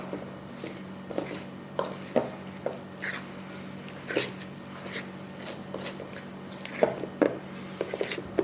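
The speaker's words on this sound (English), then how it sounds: "And we're going to basically mix this until it's sort of barely incorporated." Hushpuppy batter being mixed in a bowl, a series of irregular soft scrapes, clinks and wet squishes as a utensil works through the thick mixture, close and fairly quiet with steady background hum.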